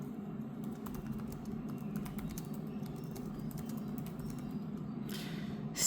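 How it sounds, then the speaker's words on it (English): Steady typing on a Lenovo ThinkPad T14 Gen 5 laptop keyboard, soft rapid key clicks running continuously at close range over a low background hum, with no talking. "Let me show you how it feels to type on the keyboard of the T14 Gen 5."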